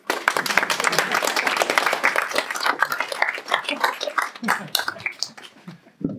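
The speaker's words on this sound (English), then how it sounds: "We can start with the applause." Audience clapping for a speaker at a tech talk on accessible apps, sharp individual claps that start full and thin out unevenly toward the end, with some voices mixed in.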